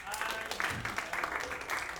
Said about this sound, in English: a very respectful theatrical round of applause